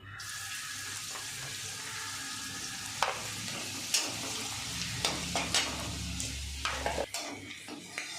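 Hot oil sizzles and crackles steadily as vadagam fries, with occasional sharp pops and clinks of a utensil against the pan.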